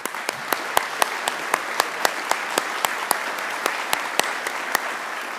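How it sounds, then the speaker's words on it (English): A Veterans Day ceremony audience gives a round of applause to a standing honoree: sparse, fairly slow, distinct claps ring out individually over a steady crowd hum, close and crisp throughout with no one speaking. "Let us give you a round of applause, sir"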